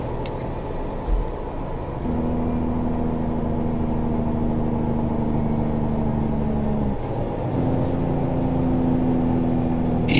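A loud, steady heavy truck engine brake (Jake brake) drone with a deep sustained tone that dips briefly before resuming.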